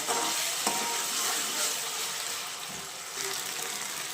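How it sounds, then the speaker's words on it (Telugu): Ginger garlic paste fries in a pan with a continuous soft sizzle, fairly quiet and steady, with a faint stirring scrape midway; no talking. "అల్లం వెల్లుల్లి పేస్ట్ కూడా పచ్చివాసన వెళ్ళేంత వరకు బాగా వేయించుకోవాలి."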